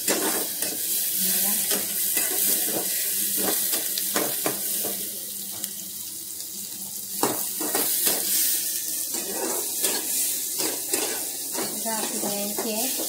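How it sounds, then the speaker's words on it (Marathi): Capsicum sizzles steadily in a hot pan as a utensil scrapes and clacks in repeated stirring strokes, with a voice speaking briefly near the end. "शिमला मिरची मस्त फ्राय करून घ्यायची त्याच्यामध्ये"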